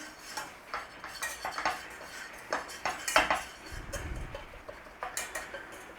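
Spices blooming for a red enchilada sauce are stirred in a pan over a low flame, with repeated sharp clinks and scrapes of a utensil against the metal, close and irregular, and a brief soft sizzle underneath.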